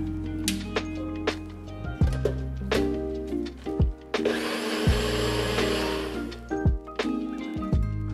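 A blender whirs loudly, blending banana, almond milk and peanut butter into a smoothie. The motor surges and dips in uneven pulses, with a harsher, grinding full-power stretch in the middle.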